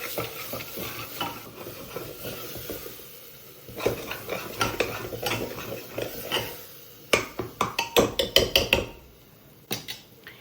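Masala paste stirred in a pot on the stove, a spoon scraping and knocking against the metal in uneven bursts that grow sharper and louder toward the end, with a low sizzle beneath and no voices.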